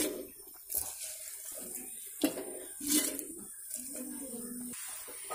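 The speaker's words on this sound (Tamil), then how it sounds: "இப்போ தண்ணியெல்லாம் இதில் ஊற்றிட்டோம்." Water pours into a cooking pot while sweet pongal is made at home for Margazhi, a steady splashing wash with a person talking over it.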